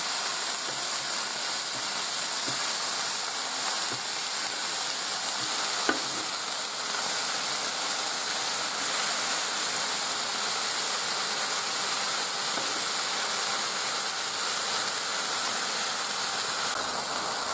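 Smash burgers on a Kenyon City Grill griddle, just flipped, sizzling with a loud, constant, hissing crackle that holds steady for the whole stretch, with a faint clink or two and no talking.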